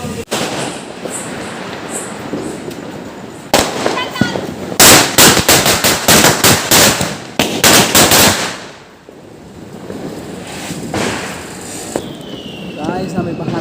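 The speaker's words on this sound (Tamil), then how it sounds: "கிராக்கர்ஸ் போய் வெடிக்கலாம்." Diwali firecrackers burst in a loud rapid crackling string lasting several seconds, with sharp individual bangs before and after the main volley over outdoor background noise.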